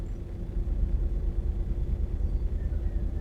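A truck engine in the video game Euro Truck Simulator 2 gives a steady, deep rumble that drones on without a break for the whole stretch, with no voices over it.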